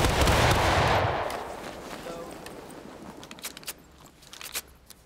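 A line of infantry fires a musket volley in the Civil War game War of Rights: a loud, ragged burst of shots up front that rolls away into scattered crackling reports and faint clatter, with voices in the background.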